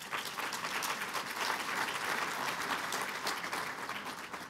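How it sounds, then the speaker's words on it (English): Conference audience applauding at a neighborhood best practices conference, a sustained, even burst of many hands clapping at moderate volume from start to finish. "Let's give her one more round of applause."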